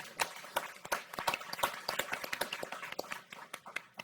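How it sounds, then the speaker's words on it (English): Scattered audience applause for Jeff Hawkins at a forum on the Central African Republic, a thin run of separate hand claps at moderate distance with no voices over it. "Jeff Hawkins, would you please stand up and let me give you a round of applause."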